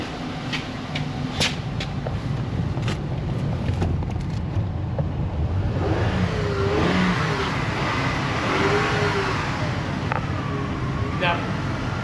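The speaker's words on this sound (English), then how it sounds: "Rev it up a little bit." An Acura MDX engine idles with a steady rumble, then revs in a couple of rising surges over wind noise on the microphone.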